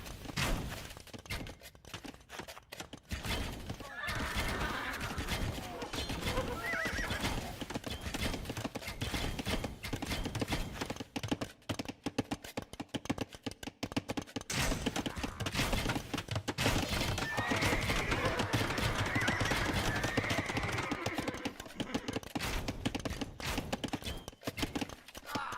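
Cavalry horses in a medieval strategy game neigh and whinny repeatedly over dense, continuous galloping hoofbeats, with clashing battle noise throughout at steady loudness.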